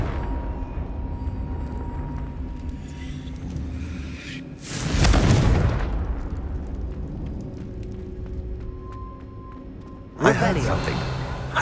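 A Confringo blasting spell explodes in Hogwarts Legacy, a loud fiery boom that swells and rumbles for about a second before trailing off, followed later by a second sharp burst over a low game ambience.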